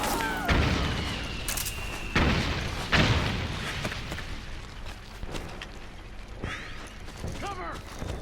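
Gunfire in the Metal Gear Solid 4 video game comes as several loud, sharp booming shots and bursts separated by gaps, with mechanical clatter and fainter shots between them and brief voices in the mix.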